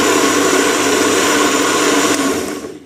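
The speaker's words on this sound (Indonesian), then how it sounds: "Buat blender bumbu, sambel seperti ini bisa banget" A Hanriver 2-in-1 blender grinds spices for sambal, a loud steady whirring roar that holds for a couple of seconds and then winds down as the motor stops.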